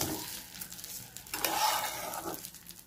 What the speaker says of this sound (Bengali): এই চালটাকে ভালো করে ভাজতে হবে।